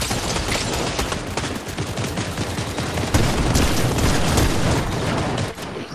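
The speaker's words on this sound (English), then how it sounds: "Yeah, I was shooting with this shotgun." Dense, loud gunfire from a shotgun in the Fortnite video game, with rapid overlapping shots and booms running continuously through the clip, no talking.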